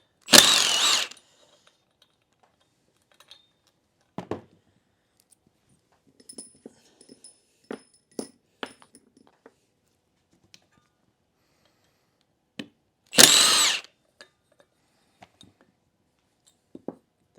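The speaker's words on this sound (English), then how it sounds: "Pull out the 1/2-inch impact." A 1/2-inch impact wrench hammers at the recoil bolts on a rotary 1972 Arctic Cat Panther 303 snowmobile engine in two loud, close bursts about a second long, separated by quiet clicks and clanks of tools being handled.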